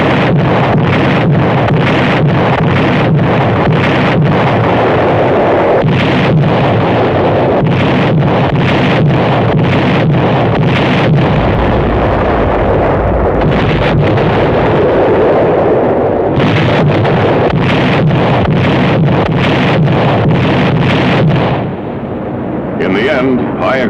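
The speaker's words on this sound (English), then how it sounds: "Heavy and well-directed naval gunfire played an important part in holding back the enemy tide." Naval gunfire and shelling during the Battle of Anzio in Italy, heard as a dense, continuous rumble of booms and blasts, close and loud, with heavy wind buffeting throughout.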